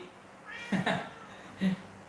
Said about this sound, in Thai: แมวมาทักทาย